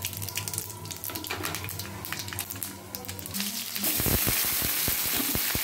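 A loud sizzling hiss with crackling pops suddenly starts partway through as pumpkin, radish, potato and cauliflower stems drop into hot oil with five-spice and dried chillies, close and steady.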